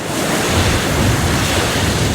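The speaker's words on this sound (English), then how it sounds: "The waves come in and they hit those snow shoves" Lake waves crash against ice shoves in high wind, a loud, dense, continuous wash of surf and wind noise with no pauses or voices.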